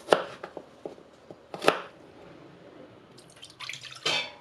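A knife taps sharply on a cutting board in a few quick, close chops through garlic, not chopped too finely, followed by softer rustling and scraping sounds.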